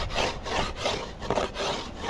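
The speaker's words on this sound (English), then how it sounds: "I'm gonna scrape this off first" A hand tool scraping the wood of a beehive pallet in steady back-and-forth strokes, close and rhythmic, with about four scraping passes and no talk.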